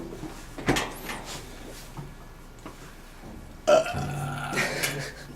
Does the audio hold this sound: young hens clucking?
no